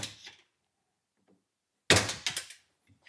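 Sharp knocks hit the centers of plastic push-pin trim clips on a BMW E30, a few hard close taps clustered together after a short bump and silence.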